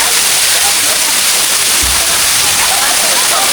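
Water at Bato Spring in San Pablo, Laguna rushing in a loud, steady hiss with no break, with a brief low thump partway through and a voice faintly mixed in.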